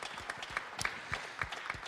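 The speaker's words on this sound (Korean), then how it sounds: "하나님께 감사 영광의 박수를 크게 올립니다" A church congregation at a spring revival conference applauds, with a few scattered claps against a faint room background.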